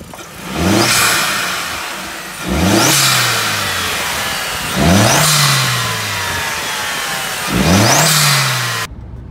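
A car engine revs up sharply four times, each burst rising then easing back to a steady drone, close and loud with no talking.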